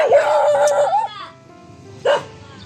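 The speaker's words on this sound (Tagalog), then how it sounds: "kakatakot yung mga aso dito. Ang tatapang." Dogs bark fiercely at a farm plot in Sulucan, Angat, Bulacan, with one sustained loud bark near the start and a second sharp bark burst around two seconds in, over faint background noise.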